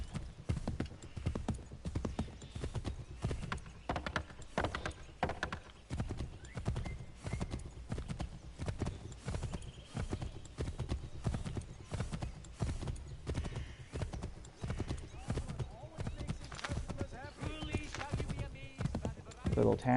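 In the game Assassin's Creed 3, a horse's hooves clip-clop in a steady, rapid rhythm that carries on throughout, with faint ambient noise underneath.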